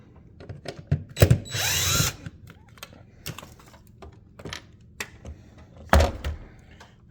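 A power drill whirs in a short burst to back out the screws holding a wired smoke detector base, surrounded by scattered clicks, taps and handling knocks up close.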